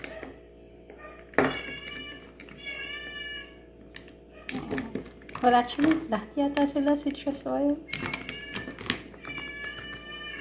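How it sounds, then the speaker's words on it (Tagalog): Several house cats meowing in a concert-like chorus of repeated, tonal calls, fairly close and overlapping, with a person speaking at the same time. "nagko-concert ang mga pusa ko"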